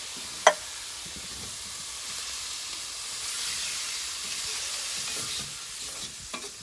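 Fire-roasted Rotel tomatoes hit a hot paella pan with a steady, soft sizzle and hiss, opening with a single sharp clack and a small knock near the end, no voices.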